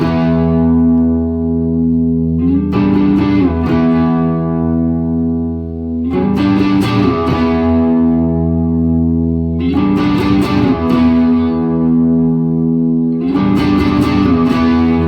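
Distorted bass guitar hammering out heavy sustained power chords, each chord ringing for a few seconds before the next one hits, with no voices.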